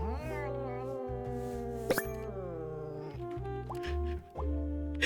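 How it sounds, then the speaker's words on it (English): Cartoonish cat meows in the video game Duck Detective rise and fall in long tonal calls, several in a row, alone over a low background hum. "These cat noises, man."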